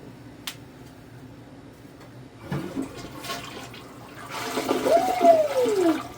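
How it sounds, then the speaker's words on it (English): A toilet flushes nearby, starting with a click of the handle, then a rising rush of water that swirls and drains loudly before tapering off, with no talking. "Time to give it a flush."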